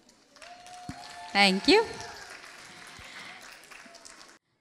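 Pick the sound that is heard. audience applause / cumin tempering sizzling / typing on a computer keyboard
audience applause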